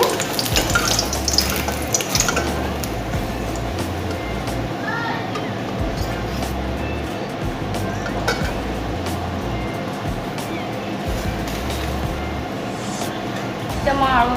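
Three eggs frying in hot oil give a steady, loud crackling sizzle that runs without a break from start to finish, with sharper pops scattered through it.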